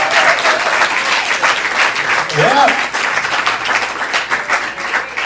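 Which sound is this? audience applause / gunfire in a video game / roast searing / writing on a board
audience applause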